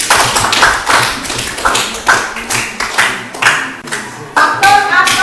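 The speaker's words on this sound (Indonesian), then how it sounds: "Tepuk tangan dulu." A class claps hands together in a classroom, loud sharp rhythmic bursts repeating in even beats close by, with some overlapping voices among the claps.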